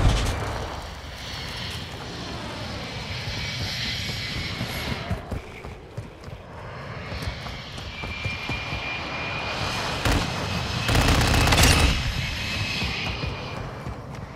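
Jet aircraft engine roaring past during a Call of Duty: Modern Warfare II free-for-all match, a loud sustained rumble with a rising whine that swells toward the end amid gunfire-like game noise.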